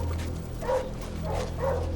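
A team of dogs out in icy mountain country barking, three or four short, close woofs spaced about half a second apart over low rumbling background noise.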